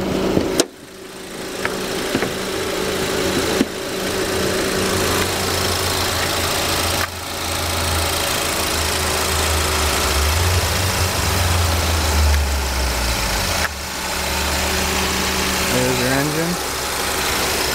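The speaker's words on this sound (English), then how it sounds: "This is an engine." A 2017 Ford Explorer 4WD engine idles steadily with a low, even hum and a faint mechanical hum on top, recorded up close with the hood open and no one talking over it.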